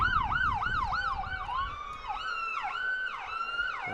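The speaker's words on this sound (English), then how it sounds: "Ambulance and fire trucks." Ambulance and fire truck sirens wail nearby at a youth football game between the Valley Huskers and Westshore Rebels, rapid yelping sweeps giving way to slower rising and falling wails, loud and without talk.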